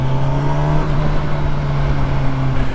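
A Kawasaki Versys 1100 SE motorcycle accelerating gently on the road, with a close, steady engine drone and a strong low hum that holds fairly even throughout.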